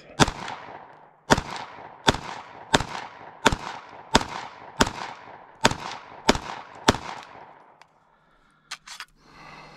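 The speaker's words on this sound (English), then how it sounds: "Ten rounds through the SIG 226 Legion at about 15 yards." Ten sharp, evenly spaced pistol shots from a Sig P226 Legion fired at a target about 15 yards away, each loud crack trailing a short echo, followed by quiet and a few faint clinks.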